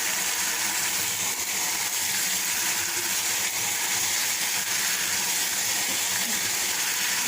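Hilsa fish pieces cook in a pan of fried spice masala, sending up a constant, even sizzling hiss that holds steady at moderate loudness throughout, with no talking.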